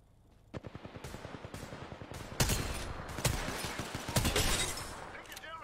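Rapid gunfire from the battle royale game Apex Legends, with steady bursts of shots from close range and a few louder hits, growing denser toward the end.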